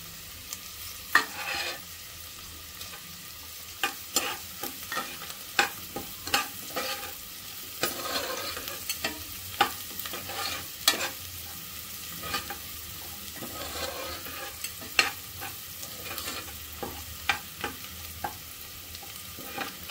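Onion frying with asafoetida and curry leaves, stirred steadily for about twenty seconds: a continuous sizzle broken by frequent sharp scrapes and clacks of the spoon against the pan, close by and with no voices.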